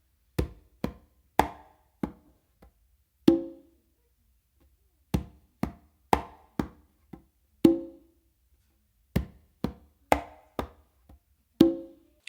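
Conga drum playing a funk melody tumbao, mixing finger taps and open tones in a sparse, syncopated pattern of sharp, dry hits with short silences between, close and moderately loud, heard alone.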